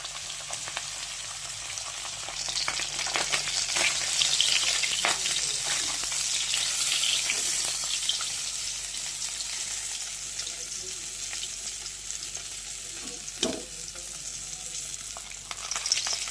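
Food frying in a pan, giving a continuous hissing sizzle with occasional stirring scrapes and a single sharper knock near the end, moderately loud and close, no voices.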